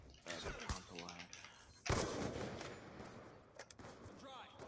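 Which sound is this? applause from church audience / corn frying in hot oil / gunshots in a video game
gunshots in a video game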